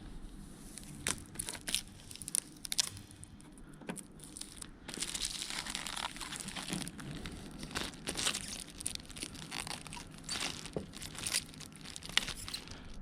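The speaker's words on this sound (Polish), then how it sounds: "w jakimś narożniku postaram się zaczepić tą folię zewnętrzną i zerwać" Outer protective film peeled by hand off a tinted headlamp on an Audi A4/A5/Q5 B8, giving a continuous close crinkling and crackling with sharp tearing bursts throughout, no talking.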